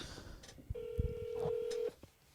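Dialing tones sound on a phone call to a Habit Burger Grill restaurant: a sustained steady tone holds for over a second amid a few soft clicks and handling noises, fairly quiet and close.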